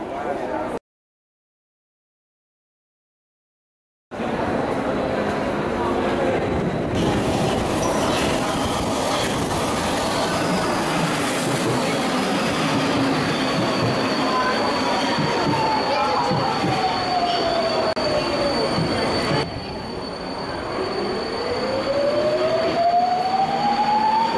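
A Budapest metro train running, a loud continuous rumble of wheels on rails with rising and falling squeals and clatter, briefly cut by a gap of silence near the start.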